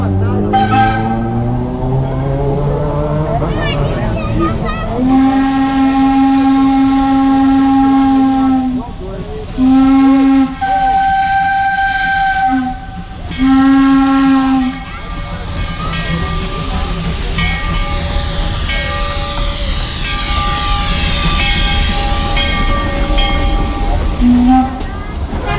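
A full passenger train arriving at the station in Tiradentes, Brazil, sounds its loud steam whistle in several long and short blasts, with hissing steam and rumbling running underneath.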